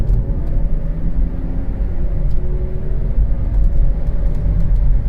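A 2007 BMW X3 3.0si driving with an acceleration fault and a rattle, giving a steady, loud low engine and road rumble from inside the cabin with no talking.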